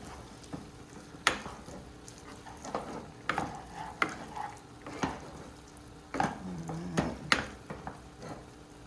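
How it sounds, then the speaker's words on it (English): Beans for a wet burrito being stirred in a pan, soft scraping and sizzling with intermittent spoon knocks against the cookware, fairly quiet and close. "let me stir these beans up so they don't burn."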